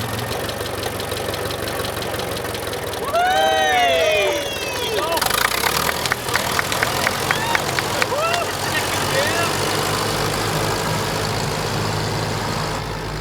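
Ferguson TE20 tractor engine idling steadily up close, a continuous low mechanical rumble with knocking texture, with people talking over it.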